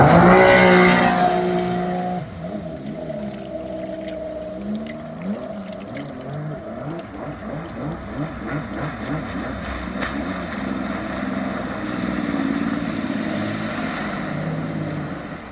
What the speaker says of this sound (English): You're gonna hear the impeller like cavitate off the bottom of this one.